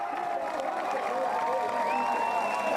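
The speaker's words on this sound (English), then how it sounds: "He's getting the cheers of the local crowd." Local crowd cheering and clapping at the roadside during a Tour of Denmark cycling stage in Vejle, a steady dense roar with whistles and tones rising above it, under continuous commentary.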